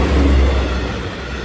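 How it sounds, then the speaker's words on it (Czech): A train passes close by with a loud, steady low rumble and rolling wheel noise that slowly fades, with no talk over it. "moment, jde vlak. Jde vlak."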